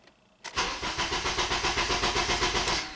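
A Honda K24 2.4-liter four-cylinder engine cranks but does not start, its starter turning over in a fast, even, pulsing rhythm for about two and a half seconds, loud and close.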